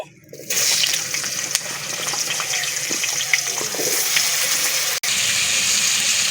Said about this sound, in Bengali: ওই তেলে আলুগুলো দিয়ে দিচ্ছি